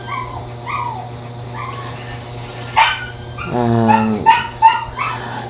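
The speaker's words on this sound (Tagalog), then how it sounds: "Nag-voice over ko dito ang ingay ng aso namin." A dog barks and yips several times, fairly close, with whimpering, high-pitched cries between the barks and a steady low hum underneath.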